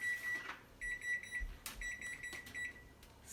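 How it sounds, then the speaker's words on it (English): A kitchen timer alarm goes off with repeated bursts of high electronic beeping, fairly faint, broken by short clatters of handling nearby. "do you know what that is? That's the timer."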